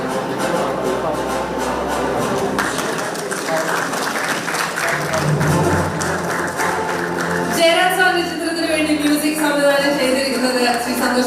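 Applause at an award ceremony, held on stage for actor Asif Ali, a steady crowd clapping that runs for the whole stretch, with music and voices over it.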